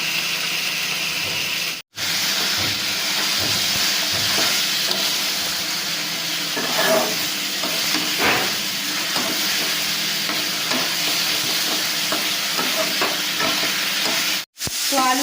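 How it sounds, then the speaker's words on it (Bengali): Ground spice masala being sautéed with potatoes, salt and turmeric in a pan for a fish curry, a loud, close, continuous sizzle with repeated stirring and scraping strokes, briefly cut twice. "আর মশলা আমার খুব ভালোভাবে কষানো হয়ে গেছে"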